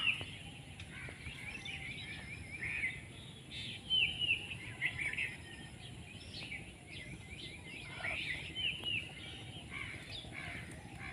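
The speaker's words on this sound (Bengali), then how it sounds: "ঝিঝির বাতাস পাখির কোলাহল পাখির গান" Faint birds chirping and calling in quiet open air, scattered short notes and a few harsher caws, no talking.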